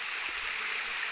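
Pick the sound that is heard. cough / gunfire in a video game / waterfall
waterfall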